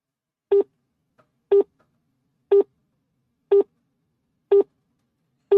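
A telephone call tone for a switched-off number, six evenly spaced short beeps about one second apart, clear and alone in silence.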